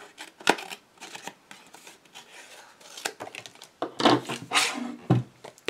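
Scissors snip away paper card while trimming small recycled Christmas cards. A few close, sharp cuts and rustles come irregularly, louder near the end, with no talk.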